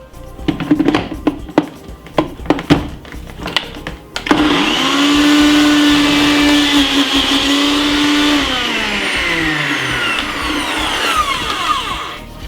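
A kitchen blender chops vegetables for a stuffed mushroom filling. A few knocks come first, then a loud, steady motor whir for several seconds that winds down and fades out.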